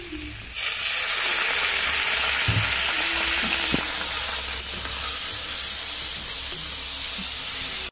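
Spice masala for prawns frying in oil with a little water, giving a steady, close, fairly loud sizzle and steam hiss that runs almost the whole way, with a few faint stirring knocks.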